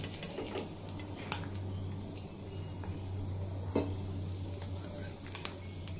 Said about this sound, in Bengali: আর ওই একইভাবেই বাকি মাছগুলো ভেজে নেব।